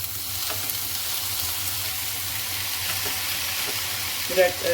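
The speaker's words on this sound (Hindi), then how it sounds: "यहाँ पे प्याज हैं वो फ्राई हो चुके हैं। अब इसमें मैं यहाँ पे टमाटो ऐड कर दूँगी।" Chopped tomatoes going into onions already fried in a pan for bhindi masala, giving a steady close sizzle with a few soft stirring scrapes and a brief clatter near the end.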